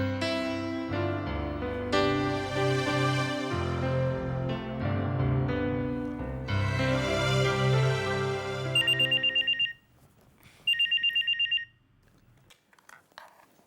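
A phone's ringback tone on an outgoing call, heard as two short bursts of repeated electronic trills with a pause between, following a passage of loud background music.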